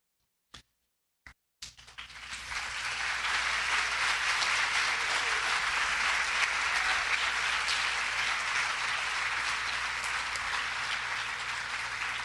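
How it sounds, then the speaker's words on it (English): A school academic honors ceremony audience claps steadily after a few sharp isolated claps, the applause swelling within two seconds into a loud, sustained, even roar of many hands that holds for the rest of the span. "Nice round of applause as they return to their seats"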